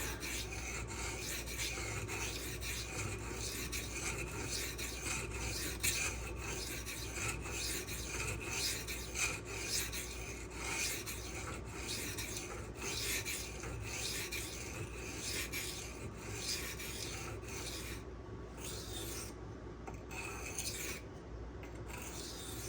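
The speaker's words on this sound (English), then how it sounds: "I'm gonna go ahead and sharpen the other side." Steady rhythmic rasping of a Spyderco Sage 5 knife blade being sharpened on a stone, close and continuous strokes with a few brief pauses near the end.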